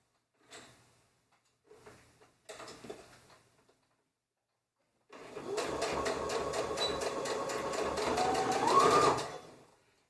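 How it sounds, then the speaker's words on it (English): A few soft handling bumps, then a sewing machine stitches a shirt shoulder seam steadily for about five seconds, a close, even mechanical whir that slows and stops. "I'm just going to do one shoulder seam at a time."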